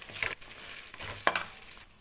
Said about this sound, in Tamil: இப்போ இந்த காலிஃப்ளவர் போட்டுக்கலாம்.